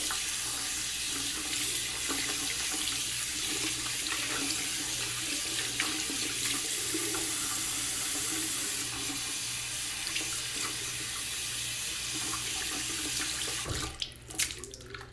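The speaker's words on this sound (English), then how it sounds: "Now you use warm water." Warm water running from a tap into a sink, a steady close hiss and splash that continues unbroken, with a brief clatter and change near the end.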